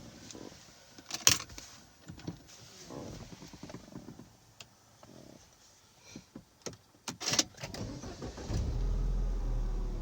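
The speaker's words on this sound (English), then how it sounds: "So now let's start the car with the door closed." Engine of a 2013 Mini John Cooper Works Coupe starting up with the door closed, heard from inside: faint clicks and key or switch sounds, then a crank and a steady low idle near the end.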